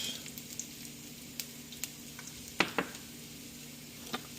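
Ginger drops into a pan already sizzling with ajwain, a steady close frying hiss broken by a few stirring scrapes and clacks, the loudest pair near the middle, with no talking.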